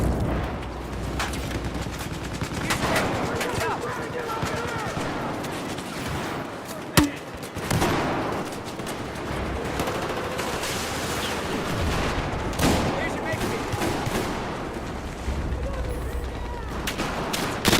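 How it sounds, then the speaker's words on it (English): Battlefield video game combat with scattered gunshots and bursts of automatic fire over a dense, rumbling battle din, one sharp louder crack standing out midway; the shots sound moderately distant and continuous throughout. "Oh, someone's shooting."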